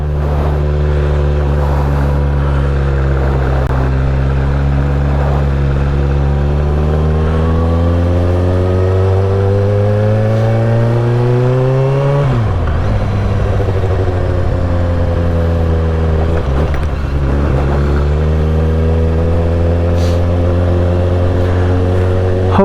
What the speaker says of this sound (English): What I did was actually just rev matching, so it's a lot easy on the engine